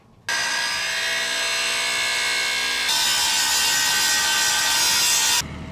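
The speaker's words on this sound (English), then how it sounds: "now what we've got to do is grind the weld off at the top and drill some holes" A power grinder works steadily against the weld on a steel chain plate of a boat, a loud continuous harsh whine and hiss that shifts in pitch midway as the pressure changes, close up with no talk.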